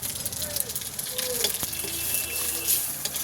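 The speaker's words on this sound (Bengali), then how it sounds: "এতে রাঁধুনি, পাঁচফোড়ন, শুকনো লঙ্কা তিনটেই কিন্তু ফোড়নে দিয়ে দিলাম।" Radhuni, panch phoron and dried red chillies fry in hot oil, crackling and sizzling steadily up close while a voice talks faintly over the pan.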